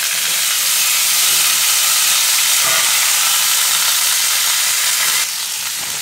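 Vegetables for sajne shak ghonto hit hot oil seasoned with panch phoron, giving a loud, steady frying sizzle and hiss that carries on alone with a brief rustle of stirring.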